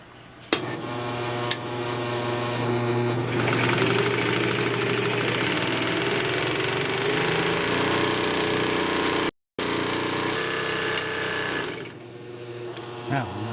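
A Singer 211U566 walking foot industrial sewing machine starts up and winds a bobbin, a steady loud motor whir that runs for several seconds, cuts out briefly, then winds down, with a couple of clicks at the start.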